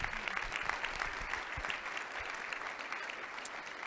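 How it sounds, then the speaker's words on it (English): A keynote audience applauds steadily, dense clapping from many hands filling the room at a constant level without pause. "One more round of applause."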